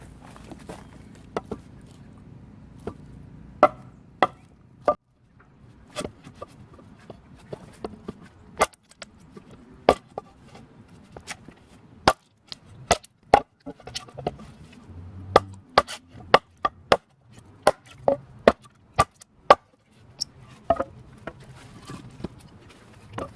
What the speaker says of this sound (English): So I'm going to do a chop test with Jessica X.